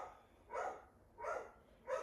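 A dog barking indoors during a yoga class, three evenly spaced, moderately loud barks with short pauses between them, heard alone over a quiet room.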